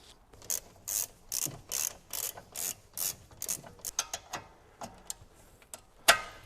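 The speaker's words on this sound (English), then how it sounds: "We can now tighten up these 2 little slider pins." A hand ratchet clicks in quick, regular bursts while tightening small brake caliper slider pins, about a dozen close, crisp ratcheting strokes followed by a few slower single clicks and a final sharp snap.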